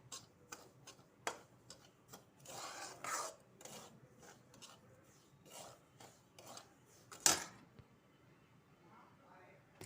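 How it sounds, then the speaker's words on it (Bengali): Metal spatula scraping and stirring semolina as it dry-fries in a pan, a steady run of close, raspy ticks and scrapes with one sharper clack near the end. "যতক্ষণ না সুজিটা লাল হয়ে ভাজা হয়ে যাচ্ছে ততক্ষণ খুন্তিটাকে চালু রাখতেই হবে"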